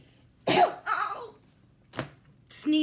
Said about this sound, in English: Sneezing is not good with a back injury.